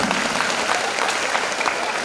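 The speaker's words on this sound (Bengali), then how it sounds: "একটা জোরে হাততালি চেয়ে নেব তার জন্য" Audience clapping for a guest, a college principal-in-charge, at a stage event, producing dense sustained applause from a crowd that fills the whole short stretch.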